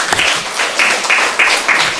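Church congregation members clap in a series of short, regular bursts of applause, close and fairly loud.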